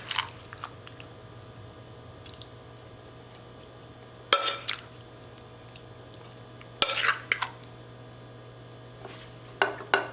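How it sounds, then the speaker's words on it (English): Boiled chayote pieces are dropped and scraped into a buttered 8x8 pan for a keto apple crisp, a few separate close clatters and squelches spaced over a quiet background hum. "I have an 8x8 buttered pan, and I'm just gonna put my chayote in there"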